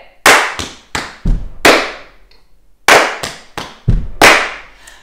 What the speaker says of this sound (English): So we're gonna clap, tap, tap, stomp, clap.